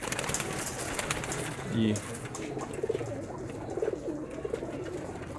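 Pigeons from rooftop breeding pairs, young birds and high-flying stock coo softly in a low, intermittent murmur beneath someone talking nearby.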